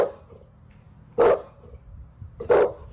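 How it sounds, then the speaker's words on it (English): A dog barks twice, loud and close, the sharp barks spaced over a second apart with quiet low rumble between them. "Obviously, the dog is going crazy."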